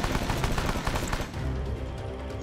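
Gunfire in Rambo The Video Game crackles in a rapid burst of repeated shots, loud and close, then eases into a lower rumbling tail.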